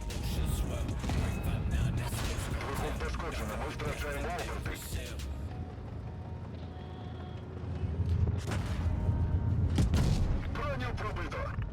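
Tank cannon shots ring out during a 3-on-3 tournament match in a tank video game, a few heavy booms set into a dense, constant wash of battle noise, with a voice talking over the mix.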